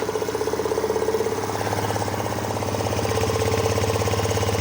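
A Suzuki Lets 4 scooter engine runs steadily up close, its rapid putter holding an even, slightly rattling rhythm throughout.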